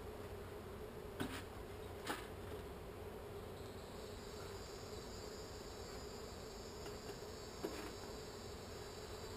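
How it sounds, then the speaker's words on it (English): A swarm of agitated bees hums around a hive lid, a faint, steady drone with a few brief clicks and a thin tone that joins partway through. "Look at all those bees."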